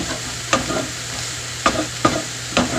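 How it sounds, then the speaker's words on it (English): Thai-style turkey stir-fry sizzles steadily in a pan while a spatula scrapes through it four times at uneven intervals, close and clear with no voices. "So stir this around."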